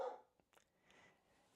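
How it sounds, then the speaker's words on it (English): A dog barks once or twice in the background, faint and distant, with a short burst at the start and a quieter yelp after, in an otherwise quiet indoor room. "My dog's barking."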